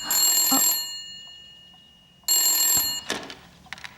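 A telephone rings in two loud bursts, the first at the start and the second after a pause of nearly two seconds, with faint rustling between them and after the second ring.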